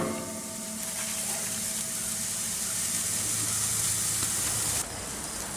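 Burgers made with onion soup mix sizzle on a Weber gas grill after being flipped, a steady close frying hiss with a faint low hum beneath it, no voices.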